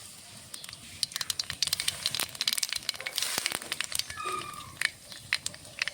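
Nigella seeds tempering in hot mustard oil, a dense run of sharp crackles and pops spattering close by, irregular and steady throughout with no voices.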